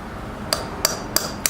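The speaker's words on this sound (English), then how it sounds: "you take that drill bit and you tap ever so lightly" Drill bit tapped lightly on ceramic tile, four sharp, bright clicks spaced roughly a third of a second apart, close and crisp over a quiet background.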